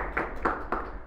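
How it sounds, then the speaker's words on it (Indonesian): Three sparse, separate hand claps, fairly faint and spaced evenly, from a small group of young Islamic boarding school students during a Ramadan talk, with no voices over them. "Tepuk tangan buat kalian dong"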